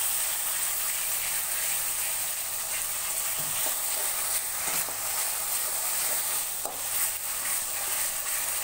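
Cabbage Manchurian sizzling steadily in a hot pan as it is stirred, a dense hiss of frying with occasional scraping clicks from the spoon, and no voices.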